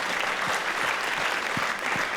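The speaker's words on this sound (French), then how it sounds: "On l'applaudit." An audience applauds at a film premiere at a cinémathèque, a steady, dense wash of clapping from a full room with no voices over it.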